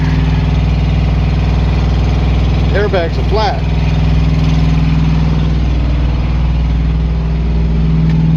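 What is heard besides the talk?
truck APU auxiliary power unit running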